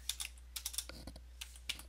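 Rapid keystrokes clatter on a computer keyboard in short uneven bursts, close and quiet against a low steady hum, with no talking.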